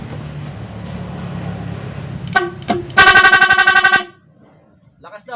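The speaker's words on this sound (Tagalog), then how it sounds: "lalagyan ko ng apat na busina" An old original stock car horn being sounded from a set meant for four horns fitted to a car: a couple of short blasts, then a loud, sustained honk lasting about a second, alone and close.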